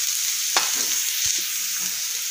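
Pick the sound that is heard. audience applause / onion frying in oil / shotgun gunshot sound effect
onion frying in oil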